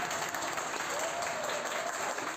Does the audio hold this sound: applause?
yes